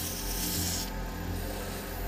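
Rough rasping strokes of sandpaper on a wood and epoxy resin shaving brush handle, close and continuous with a brief pause in the middle, no talk.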